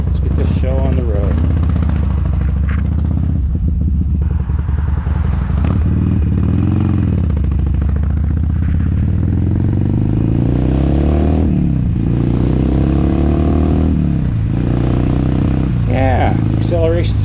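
A 2007 Harley-Davidson Sportster XL 1200 motorcycle on a cold-weather test ride, its engine droning steadily and rising in pitch as it accelerates, with a voice talking over the ride throughout.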